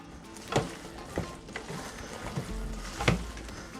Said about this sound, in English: Let me fold all this in together